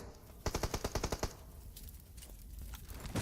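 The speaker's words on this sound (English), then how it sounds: "NBeSports trying to take care of Raw and making sure that the shots will connect, that the frags will happen." Rapid burst of automatic gunfire in PUBG Mobile during a competitive esports match, about a dozen close, loud shots in quick rhythm, then quieter scattered game noise.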